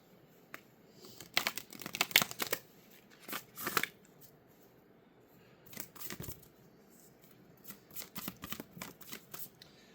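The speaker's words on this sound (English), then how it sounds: "Let's pull a Moonology card real quick, and then we'll get started with your message." A Moonology oracle card deck is shuffled and a card drawn, giving bursts of crisp papery riffling and flicking with short pauses in between, close and fairly quiet with no talk.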